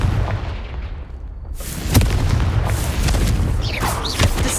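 The Confringo blasting spell goes off in Hogwarts Legacy with a booming explosion after a quieter stretch, then a dense rumble and crackle carries on with further sharp pops and whooshes.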